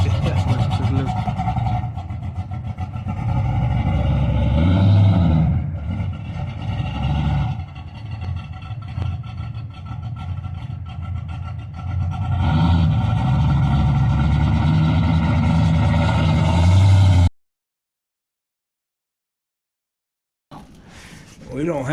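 Car engine running at idle while a fender lip is rolled, a steady mid-pitched drone with rises as it loads up, voices talking over it, then a brief pause before the engine returns.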